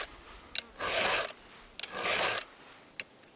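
A file rasping against chainsaw teeth while sharpening the saw: two long gritty strokes with brief clicks and taps between them, close and fairly quiet, with no talking.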